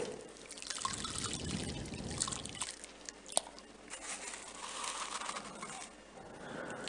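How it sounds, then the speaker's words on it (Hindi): Handfuls of coarse rock salt tipped into a vessel of water, giving a soft splashy trickle and patter that rises and falls over several seconds, fairly quiet and close. "इस सॉल्ट को हम पानी में छोड़ेंगे"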